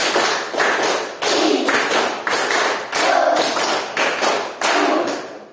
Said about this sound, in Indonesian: kita ulangi 3 kali tepuk 5